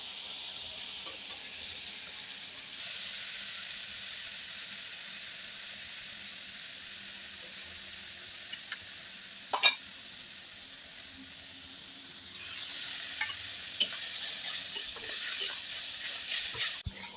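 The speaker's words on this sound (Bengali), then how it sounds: "দিয়ে তারপর আমি ভালো করে জিনিসটাকে কষাবো।" Spices being stir-fried in a pan for a chicken dish with rice, giving a steady broadband sizzle with stirring scrapes throughout, one sharp clink near the middle and a louder frying burst toward the end.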